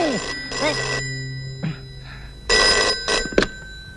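A telephone rings in short repeated electronic bursts, fairly close and clear, with a soft voice in between.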